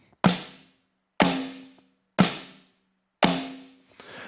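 Four evenly spaced snare hits from a Yamaha DTX-PRO electronic drum kit, each a sharp, punchy crack with a quick decay, loud and alone, the last followed by a softer trailing stroke.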